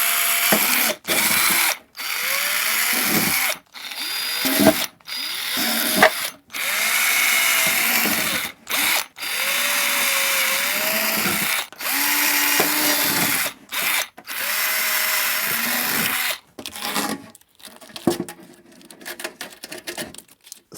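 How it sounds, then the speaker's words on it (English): A small power drill with a 3mm bit boring pilot holes during a 1980s Technics SL-D20 turntable restoration, a series of steady whirring bursts of a second or two each, separated by brief pauses, close and loud with no talk. "smaller pilot holes with a 3mm drill."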